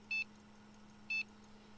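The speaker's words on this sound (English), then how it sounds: "That's a different beep, beep, beep, beep." Two short, clean electronic beeps, about a second apart, sound against a quiet background hum.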